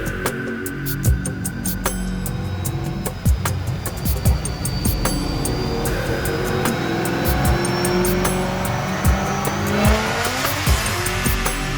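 A supercharged 2015 Dodge Challenger with a Whipple-blown 426 stroker, ported heads and long-tube headers roars on a dyno, a loud sustained engine pull with a whining supercharger that climbs steadily in pitch, close and continuous.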